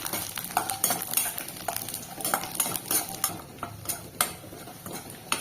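Peeled garlic cloves, about twenty, sautéing in a pan, with steady stirring and utensil scrapes over a soft sizzle, close and continuous with no talking.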